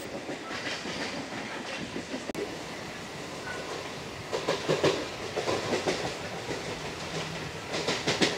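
A Howrah to Tarakeswar electric local train runs along the rails with a steady rolling rumble and a rhythmic clickety-clack of wheels over rail joints, which grows louder toward the end.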